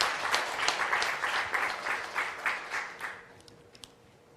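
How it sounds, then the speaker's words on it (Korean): Applause from a conference audience after a panel discussion, a moderate round of clapping for about three seconds that tapers into a few final claps and room quiet. "I'd like to ask everyone to join me in thanking them all with a round of applause"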